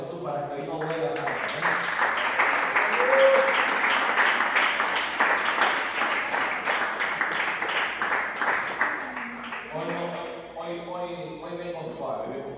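Church congregation applause at a Spanish-language service, a sustained, rhythmic clapping that swells and then fades. Voices sound at the start, and singing or talk returns near the end.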